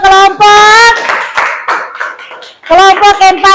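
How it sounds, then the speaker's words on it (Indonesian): A class applauding a group of students, with a stretch of mixed clapping in the middle framed by loud voices calling out together. "kita berikan tepuk tangan untuk kelompok"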